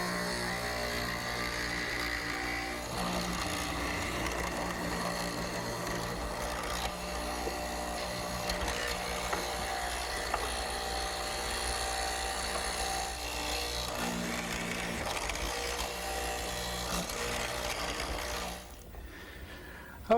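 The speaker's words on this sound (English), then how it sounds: "The bit will remove most of the material, and the chisel will square it up." A hollow chisel mortiser bores and squares a mortise in wood, giving a continuous, fairly loud mechanical whir with a steady hum that runs throughout and cuts off near the end.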